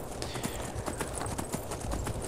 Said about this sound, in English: running around on my horse.